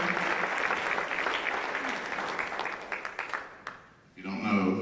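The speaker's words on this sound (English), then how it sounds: "big round of applause for these two ladies" At a school all-sports banquet, an audience claps for honored athletes. The loud applause lasts about four seconds, tapers into a brief lull, and then a speaker's voice resumes.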